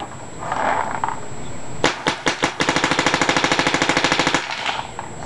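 Planet Eclipse Ego8 paintball gun firing outdoors: a few spaced single shots, then a fast, sharp, rhythmic burst of rapid-fire pops lasting a couple of seconds, loud and close.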